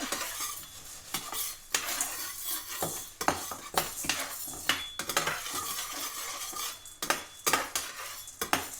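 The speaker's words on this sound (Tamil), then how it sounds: "மிளகை கொஞ்சம் இது வறுபடுது" Black peppercorns dry-roasting in a pan, with repeated scraping and clinking strokes of a spoon against the metal over a faint crackle, sounding in an irregular rhythm close by.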